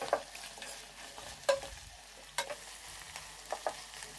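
Broad beans for a tomato curry are stir-fried in a pan over low heat, a soft steady sizzle broken by occasional spatula scrapes and taps, quiet and close, with no voices.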